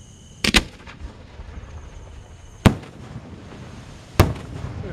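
Three sharp booming reports from 5-inch firework shells at a holiday display, each a loud thump followed by a short echoing tail, spaced a second or two apart outdoors.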